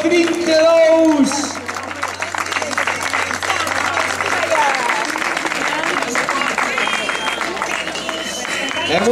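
Steady applause and crowd noise at the finish line of a popular running race in Carballedo, as a runner placed seventh crosses, with an announcer talking over a loudspeaker throughout.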